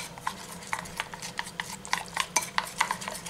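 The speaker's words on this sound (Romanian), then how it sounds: "Amestecăm grișul" A semolina face mask paste stirred briskly in a bowl with a spoon, giving quick, regular clinking scrapes against the bowl, close and clear with no speech.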